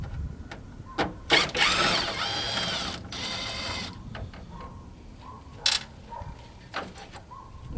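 Screws being backed out of the grille bezels on a 1985 Chevy K10 during restoration, with short ratcheting and mechanical clicks and brief power-driver bursts, close up, in separate spurts between quieter moments.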